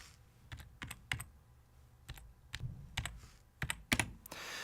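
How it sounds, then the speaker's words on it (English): Keys on a computer keyboard clatter in irregular, close clicks and taps, including separate keystrokes and a few quick clusters, with no talking. "type a space key because I am going to make a spelling mistake"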